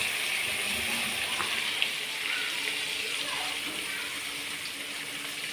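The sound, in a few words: fish frying in hot oil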